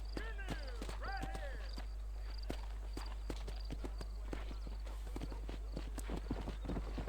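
Horse from the video game Red Dead Redemption walking with steady, clear hoof clip-clops, a brief whinny early on, and voices talking over the hoofbeats.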